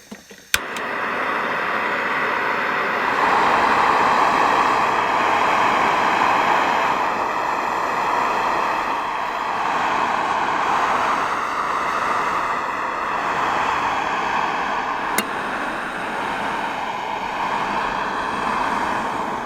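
A FireMaple Star X2 camping stove burns steadily with its windscreen locked in place under a kettle of water, giving a continuous close roaring hiss throughout with a couple of sharp clicks, and no talking.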